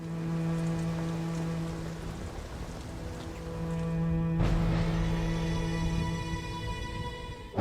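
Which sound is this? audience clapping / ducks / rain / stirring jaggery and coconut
rain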